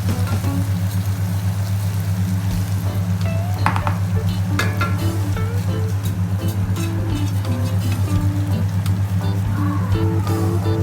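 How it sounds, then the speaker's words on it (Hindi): Rice and sugar go into a pan for shahi zarda and are stirred, giving a steady sizzle with scraping spoon strokes over a constant low hum, close and fairly loud, with no talk. "आगे चावल डालें और आधी हम इसमें चीनी डालेंगे।"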